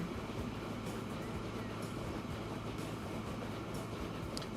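A train running in the video game Transport Fever 2: a steady, continuous low rumble of rolling rail wagons with a faint hum, constant in level throughout, with no distinct horn or clatter standing out.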